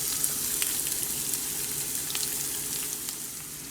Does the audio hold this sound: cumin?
yes